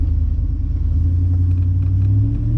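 A Dodge Dakota R/T fitted with a Mopar M1 intake drives along, its engine giving a loud, steady low rumble throughout with a constant drone and no talking.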